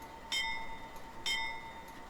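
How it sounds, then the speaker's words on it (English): Locomotive bell of a CP AC4400CW diesel in Train Simulator Classic rings twice, about a second apart, each clear metallic strike ringing out with a bright tone and fading under a faint background hum. "Bell does ring."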